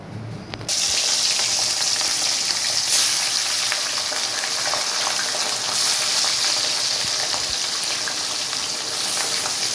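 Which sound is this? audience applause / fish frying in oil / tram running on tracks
fish frying in oil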